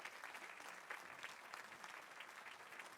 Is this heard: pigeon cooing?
no